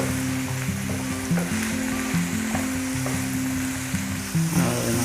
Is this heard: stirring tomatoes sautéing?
yes